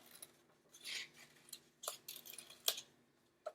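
Scissors snip through paper during a kindergarten craft, a few short crisp cuts and rustles spaced irregularly, close and fairly quiet with no talking.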